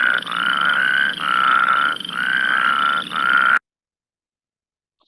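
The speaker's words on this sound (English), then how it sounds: "So more of a whirring sound for the Plains spadefoot." A Plains spadefoot toad gives a loud, close whirring call repeated in four long pulses with brief gaps, alone with no talk, then falls silent.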